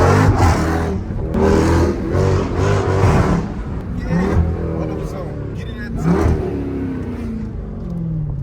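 A Jeep Trackhawk engine revs hard nearby, rising in loud, roaring surges that swell and ease several times as the vehicle accelerates.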